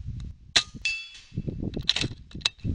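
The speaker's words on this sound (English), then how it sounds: "Shoot this guy in the ear." Rifle shots fired through a day/night vision scope outdoors, two or three sharp cracks each followed by a short ringing decay, with a faint metallic clang and low rumbling between.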